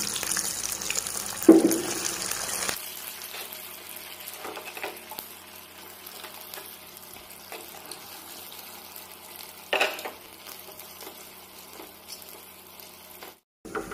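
Sausages dropped into hot oil in a pan set off a loud burst of hissing, which settles into a quieter, steady crackling sizzle with occasional spits and one sharper flare.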